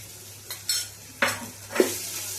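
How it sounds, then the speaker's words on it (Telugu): Ginger garlic paste frying in a pan for chicken pulao, with a few sharp sizzling bursts and scraping stirs over a steady low background hum, no voices. "చూడండి అల్లం వెల్లుల్లి కూడా వేగిపోయింది"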